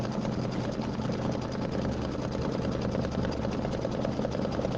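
An embroidery machine sews a wide satin stitch on a table runner block, giving a steady, fast mechanical whir and rapid needle chatter that runs unbroken and fairly loud from start to finish.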